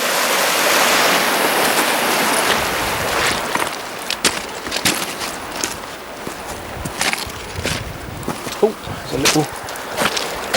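A flowing river rushes as a steady broadband wash, loud and close, with scattered knocks and footstep-like bumps in its second half and no talk.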